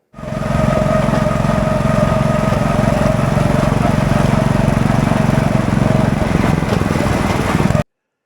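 Harley-Davidson motorcycle engine running steadily and loud, with a continuous low rumble and mechanical drone that stays even for about seven seconds before cutting off abruptly.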